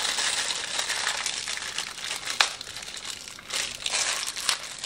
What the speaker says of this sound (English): I'll get that noisy plastic out of the way.